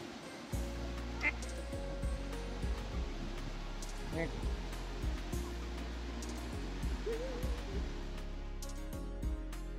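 Ducks call repeatedly beside a garden pond in Europe, their quacks and honks mixed in with steady outdoor background noise while people talk throughout.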